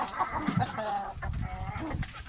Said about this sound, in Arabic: غاضب الديك.